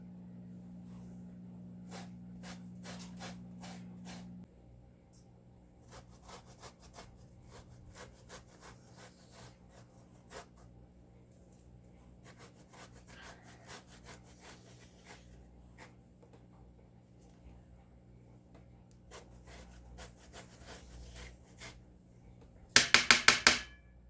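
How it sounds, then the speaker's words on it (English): A large lemon is zested on a grater, quiet rapid scraping strokes in bursts, with a faint low hum early on and a short louder rattle near the end. "This is a big lemon, so I'm going to take the zest from about half of it."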